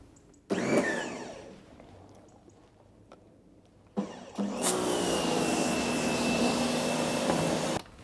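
Water sprays in bursts onto a Toyota Altezza during a rinse, a short hiss first, then a longer steady spraying rush close by after a quiet gap.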